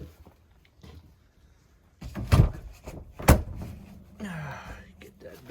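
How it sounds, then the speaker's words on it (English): A door in an abandoned house is pushed shut and secured, giving two solid close thuds about a second apart, with rustling and footsteps on debris after. "Get that door shut and secured."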